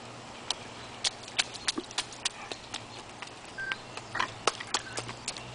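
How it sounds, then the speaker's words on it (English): Series of sharp, irregular clicks and soft pops as a woman pulls a boot off her foot against suction, likely wet rubber boots emptied at a curbside; quiet, close, no talk. "Oh, you can hear her pulling her boot off."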